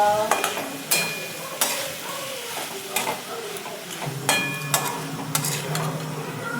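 Bitter gourd pieces cooking in released oil in a covered pan, giving a soft continuous sizzle with intermittent clinks and stirring clatters of utensil against pan, fairly close and without talk.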